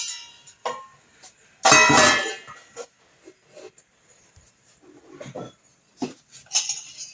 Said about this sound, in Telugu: స్టవ్ ఆన్ చేసి గిన్నె పెట్టేసుకొని